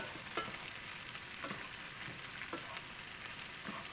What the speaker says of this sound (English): we're just going to let this char and saute occasionally for about 3 minutes